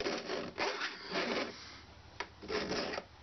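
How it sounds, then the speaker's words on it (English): Hand file rasping across the teeth of a two-handed crosscut saw, several short uneven strokes with brief pauses between them, close and moderately loud. "I'm going to try to get it with one file stroke to do both sides."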